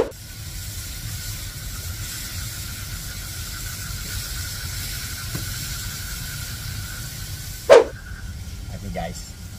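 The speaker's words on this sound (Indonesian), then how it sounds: "baksonya kita rebus." Beef meatballs (bakso) simmer in a pot over a wood fire outdoors, giving a soft, steady hiss of boiling water with a single sharp clack near the end.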